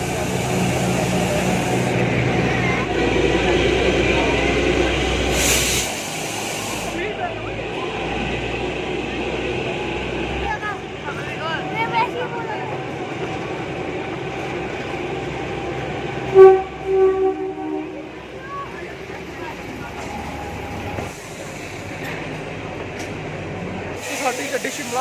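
The Kalka-Shimla toy train rolls toward Shimla station, a steady rumble of narrow-gauge rail cars that eases off partway through, with a brief horn-like tone and people talking over it.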